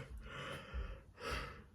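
A long, breathy human yawn, drawn out in two airy swells with a brief pause between, close and fairly soft, with no speech.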